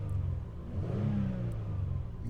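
A 2000 Toyota Estima Aeras with its 3.0L V6 revs up and falls back once in a smooth, steady drone, close by and with no talk over it.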